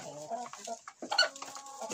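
A hen clucks several times in short, quiet bursts, close by and faint, with no talk over it.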